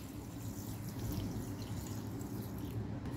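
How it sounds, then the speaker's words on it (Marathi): Rice rinsed in a bowl of water in a home kitchen while preparing chicken pulao, giving a steady low sloshing and dripping wash that runs continuously and fairly quietly throughout, with no talk. "2 ते 3 पाण्याने तांदूळ स्वच्छ धुवून घेऊया"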